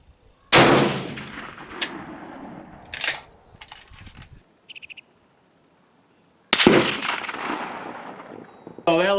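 Two sharp, loud Steyr rifle shots crack at an outdoor shooting range, each followed by a decaying echo, with faint clinks and small metallic sounds in the quiet gap between them.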